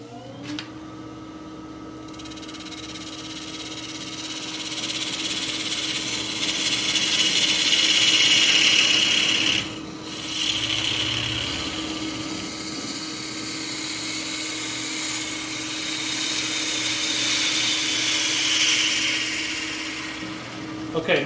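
Wood-turning lathe tool cutting a small V groove into a wooden hollow form, a steady broadband scraping whir that runs continuously and swells and eases, with a brief dip midway, under a constant motor hum.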